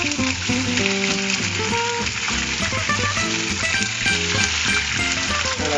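Salmon skin pieces frying in very hot oil, a loud, dense sizzle that fills the clip, with a steady tonal hum and music-like layers running underneath.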